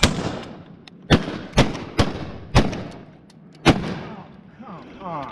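Several loud shotgun-like blasts while hunting birds outdoors, five or six booming reports at irregular intervals over a few seconds, each with a short rolling echo, close by.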